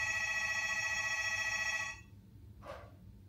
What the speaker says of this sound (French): ça fait 3 fois que ça sonne